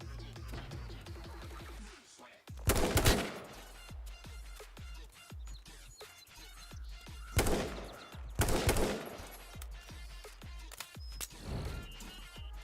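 Gunfire in the H1Z1 video game, with loud clustered bursts of shots and scattered single cracks over continuous game background noise.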